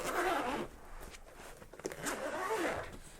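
Zippers on a Moshi Arcus camera backpack are drawn open in two short runs, close and quiet, with a soft rasping texture and faint handling noise between them.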